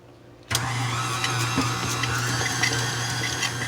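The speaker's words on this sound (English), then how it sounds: "now we have our cream cheese in our mixer and we're going to start it off" Stand mixer starting up to beat cream cheese for homemade mascarpone, a steady motor whir kicking in sharply and running on with faint rattles of the beater in the bowl.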